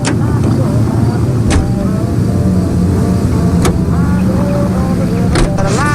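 Car engine from the 1940s Los Angeles crime video game L.A. Noire drones steadily and loudly throughout, with faint voices and a few sharp clicks over the constant road hum.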